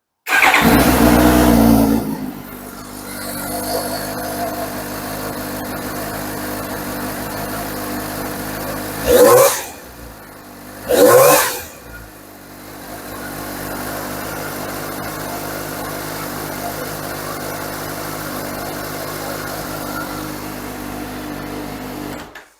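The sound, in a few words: motorcycle engine starting and idling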